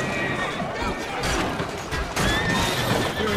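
A horse whinnies loudly over clattering hoofbeats and a busy Assassin's Creed: Syndicate game soundscape, with a second neigh following close behind.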